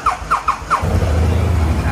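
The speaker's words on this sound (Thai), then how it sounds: "เดี๋ยวสตาร์ทให้ฟังเสียงเครื่องยนต์กันดู" A 2016 BMW 650GT scooter engine starting: a few short squealing starter bursts, then the engine catches and settles into a low, steady idle.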